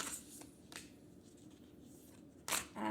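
A deck of tarot cards being shuffled by hand, soft papery riffles and slides close by, with a sharper burst of card flutter near the end and no talking.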